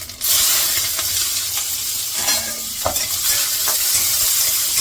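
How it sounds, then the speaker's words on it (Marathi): Mustard seeds, cumin, garlic and onion sizzle in hot oil in a pan, a loud steady frying hiss with a few stirring scrapes and clinks. "पहिलं मोहरी टाकली जिरं टाकलंय लसूण आणि कांदा थंडीच टाकते"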